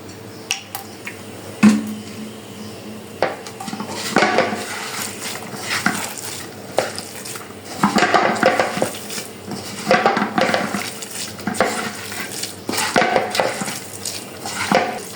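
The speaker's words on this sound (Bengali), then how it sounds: "এখন এগুলোর সব কিছু আমি হাত দিয়ে ভালোভাবে আর আসলে কচলায় নিব।" Small mola fish mixed by hand with spices, oil, chopped tomato and potato make wet, squelchy squishing and mashing with occasional taps against a metal bowl, close and irregular, without any talk.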